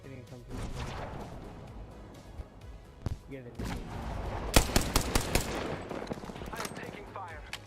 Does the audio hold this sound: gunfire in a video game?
yes